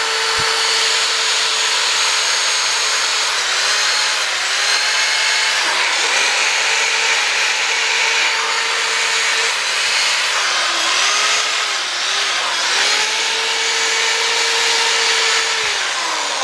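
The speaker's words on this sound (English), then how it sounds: "Now the final little thing I want to do is just run a soft wheel over this." A motor-driven soft polishing wheel buffs an aluminum motorcycle fork on an FZR cafe racer restoration, giving a loud, continuous whirring drone with a steady hum and slight pitch dips as the part is pressed against the wheel.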